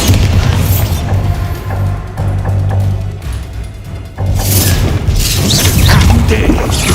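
Bombarda spell blasts in the video game Hogwarts Legacy, a dense run of booming explosions and crashing impacts over busy combat noise, loud and near, with a short dip in the middle.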